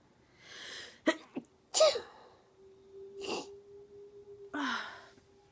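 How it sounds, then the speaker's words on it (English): A single person sneezes, a sharp burst in the middle of quiet breathy inhales and exhales, close by. "Wait, I'm going to sneeze again."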